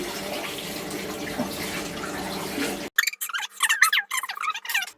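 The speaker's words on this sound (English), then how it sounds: "How long do you have to wash your hands for?" Running tap water splashes over hands at a sink for about three seconds as a steady broadband wash, then cuts off abruptly, leaving squeaky, high-pitched chirps and rubbing sounds in the quiet.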